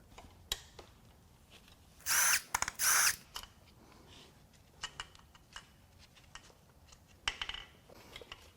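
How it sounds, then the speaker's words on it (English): A power tool whirs in two short, loud bursts while unbolting the poly-drive main cap bolts on a condemned 2016 Ford Focus 1.0 three-cylinder EcoBoost engine, followed by scattered metallic clicks and ticks of bolts and tools. "Now it's time to unbolt the main caps, which these bolts are also poly drive."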